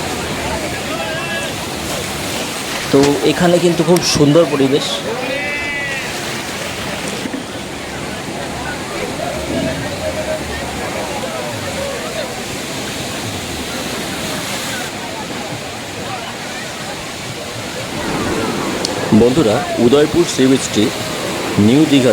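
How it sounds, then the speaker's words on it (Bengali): Sea waves roll in at Udaipur sea beach near Digha, a steady wash of surf with wind, swelling louder in two bursts as waves break, while someone talks over it. "উদয়পুর সি বিচটি সত্যিই খুব সুন্দর এখানকার পরিবেশ মন মুগ্ধ করার মতন"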